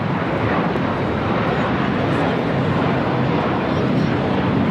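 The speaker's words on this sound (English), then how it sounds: "taking off to JFK, JetBlue A321, flight 424" A JetBlue Airbus A321 airliner bound for JFK takes off at LAX, producing a steady, loud broadband engine roar that fills the whole stretch without letup.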